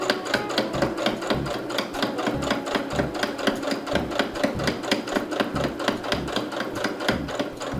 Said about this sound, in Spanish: lo ponemos en el borde del prensatela y vamos un poquito hacia adelante y hacia atrás, y ahora hacia atrás para afianzar